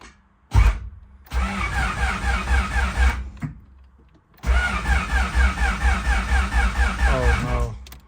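A turbocharged B16 Honda Civic engine cranks without catching: a brief starter burst, then two long stretches of rhythmic, pulsing cranking close by, separated by a short pause.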